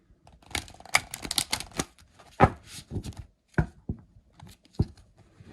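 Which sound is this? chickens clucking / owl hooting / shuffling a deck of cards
shuffling a deck of cards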